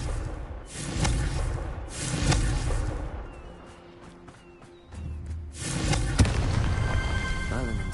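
Confringo fire spell blasts in the video game Hogwarts Legacy: a few loud bursting booms with whooshing tails, spaced over several seconds amid game ambience, one sharp crack near the end.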